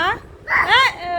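A child makes short, voiced dog-like yips and whimpers, a quick burst of nasal, rising and falling cries imitating a dog, close to the microphone.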